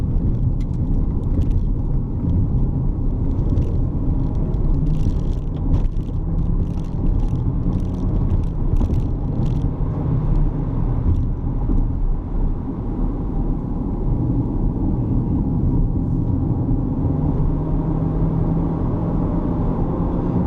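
A Chevrolet Equinox 2020 1.5 turbo rolls steadily over an irregular road with a constant low rumble and road noise, occasional light knocks and rattles from the uneven surface.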